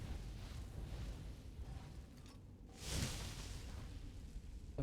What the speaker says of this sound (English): Some big explosions